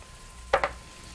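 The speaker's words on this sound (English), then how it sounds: "when you add oil to your pan, you see that nice sizzle in there" Scallops searing in hot oil in a pan for Cajun pan-seared scallops, heard as two quick sharp sizzling bursts in close succession over a quiet background.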